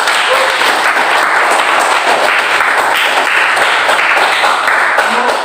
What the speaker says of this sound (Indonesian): Kita tepuk tangan untuk pembelajaran kita hari ini